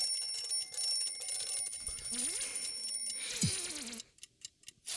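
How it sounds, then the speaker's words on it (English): An alarm clock rings in the Chuchel video game, a bright, sustained metallic ringing with sliding cartoonish tones, before it cuts off into a few sparse ticks. "the first thing I'm going to do to try and wake him is use the alarm."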